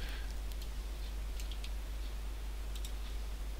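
A computer mouse clicks a few times while muting audio tracks in video editing software, faint short clicks spaced irregularly over a steady low hum.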